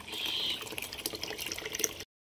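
Water runs from a tap into a container at a rural home, a steady close rush at first that turns to uneven splashing and clinks before stopping abruptly.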